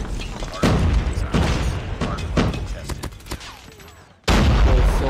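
Rapid gunfire and heavy blasts from a Call of Duty Mobile match, with a frag grenade going off among repeated loud bursts, a short drop in level, then another loud burst; speech is likely mixed in.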